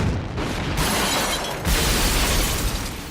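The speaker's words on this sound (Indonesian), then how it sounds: "Pada saat bom itu meledak" A bomb blast in an action film, a dense roaring burst of shattering debris and rumble that swells again midway and tails off, loud and close with no talking.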